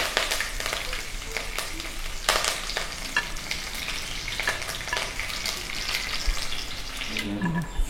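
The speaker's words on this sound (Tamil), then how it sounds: "பாருங்கள், நல்லா கடுகு பொரியுது." Mustard seeds splutter and pop in hot oil in a pan, a dense crackling sizzle with frequent sharp pops running steadily throughout, close and fairly loud.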